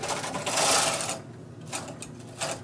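A knitting machine carriage being pushed across the needle bed, a short whirring clatter followed by a quieter pause and a few lighter rattling passes, fairly close and moderate in level.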